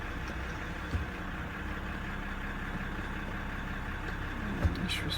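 A 2018 Jeep Grand Cherokee with a crankshaft position sensor fault runs steadily near idle as the gears are shifted, its low engine hum constant, with a couple of soft thumps and faint talk nearby.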